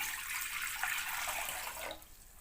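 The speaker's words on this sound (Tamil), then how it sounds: "கடாயில் வந்து தண்ணி தேவையான அளவில் சேர்த்துடலாம்" Water poured into a kadai pan on the stove, for boiling yam, makes a steady, close splashing gush that stops abruptly near the end.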